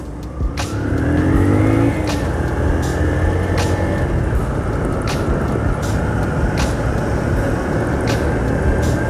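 Steady, dense car traffic on a busy road near the BR-101 junction in Natal's north zone, with vehicles rumbling close by, several sharp passing transients and a rising engine tone early on, heard continuously without talk.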